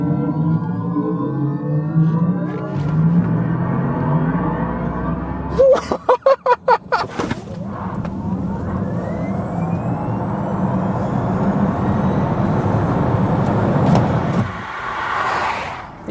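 An electric vehicle pulling away with instant torque, a rising electric whine climbing steadily in pitch under road and cabin noise, with a brief burst of rattling clicks partway through and a voice exclaiming.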